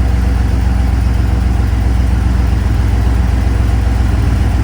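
A 1989 Jeep Grand Wagoneer with a swapped AMC 401 V8 and Sniper EFI idling, a loud, steady, low rumbling drone with an even pulse, close up and without voices.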